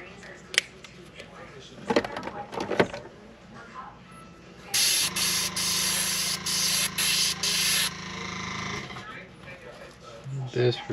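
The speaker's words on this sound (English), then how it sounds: "we're just gonna spray at an angle from the side like this." A fishing lure is airbrushed with medium gray paint from the side at an angle. A hissing spray runs for about three seconds in short pulses, preceded by scattered clicks and handling noises.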